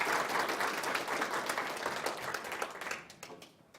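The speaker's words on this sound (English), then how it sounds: "So if you all will please give Daniel a warm round of applause." Applause from an audience at a genealogy day session, thanking a presenter; warm, moderately loud clapping rises at once, thins gradually over a few seconds and fades out at the end.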